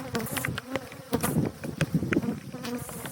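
Honeybees swarm around an opened hive, their dense buzzing close and loud, with individual bees whizzing past near the listener.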